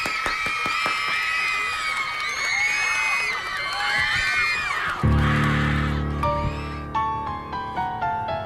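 A studio audience at a Korean variety show cheers, whoops and shouts loudly before a live song; after about five seconds instrumental music starts underneath and the crowd noise settles.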